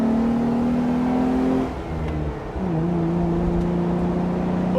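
A Jeep with a swapped axle and no steering dampener pulls onto the freeway, its engine note climbing through the gears with a brief dip at a shift, loud and steady from inside the cabin.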